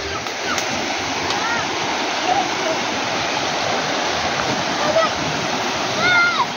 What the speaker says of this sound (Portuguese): Está na cachoeira aí,